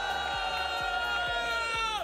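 Crowd at an esports watch party for a Rocket League championship roaring and cheering, a dense sustained wall of shouts and whoops from many people, steady and fairly distant with a rhythmic thumping beat and music running underneath.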